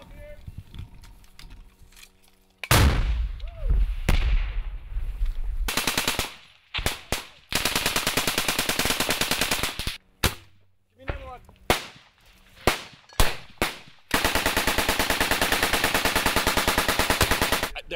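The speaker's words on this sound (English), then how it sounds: "The platoon fires whatever they can." A military platoon in combat in Kandahar fires machine guns and rifles, sharp bursts and single cracks in irregular clusters with longer sustained rattling bursts, loud and near, with shouting voices between the volleys.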